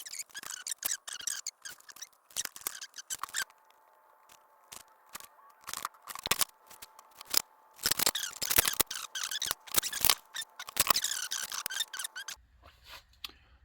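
Scissors cut material to length for a DIY Christmas ornament, producing a string of sharp, close snips and clicks in irregular bursts with short gaps between them.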